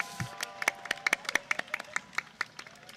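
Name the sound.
applause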